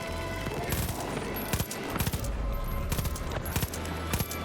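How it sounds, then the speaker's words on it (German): Rapid gunfire from the video game Far Cry 5, with dense bursts of shots and sharp cracks repeating loudly throughout under a busy in-game background. "Oh, schon wieder eine Ballerei."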